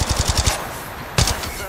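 Rapid automatic gunfire bursts from a firefight in Apex Legends, with a quick string of loud shots followed by a short pause and a second brief burst.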